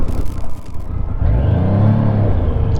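A Triumph Trident T300 motorcycle being ridden, its engine rumbling loud and close with a rising revving pitch as it accelerates, steady and continuous with no voices over it.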